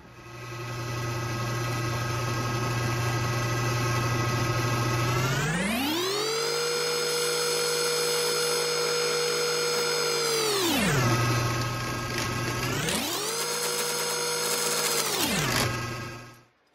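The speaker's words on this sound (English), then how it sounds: "we're gonna route around that, mill around that, until we eliminate the waste" Power router milling a router base for guitar-making tools, whining steadily, then rising to a high pitch as it cuts, dropping, and surging again in a second cutting pass, loud and close with no talk.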